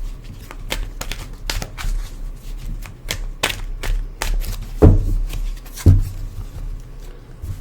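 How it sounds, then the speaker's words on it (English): Tarot cards shuffled and dealt off the top of the deck, giving a run of crisp, irregular riffling clicks and snaps up close, with two louder slaps near the end. "I'm going to shuffle and take it off the top and we'll just see."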